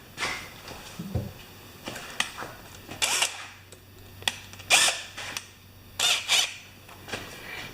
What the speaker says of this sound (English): we're just going to tighten this coil up now